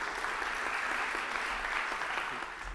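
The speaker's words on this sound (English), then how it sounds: "Before you go, a round of applause, David." An audience gives a round of applause after a talk on regional collaboration, a steady even wash of clapping that eases slightly toward the end.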